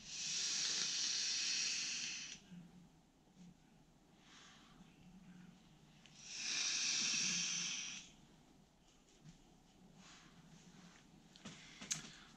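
A Uwell Crown 4 vape tank with a 0.2 ohm mesh coil, run at 75 watts, gives two long, loud airy hisses of drawn vapor. Quiet stretches of soft handling noise separate them, with no talking.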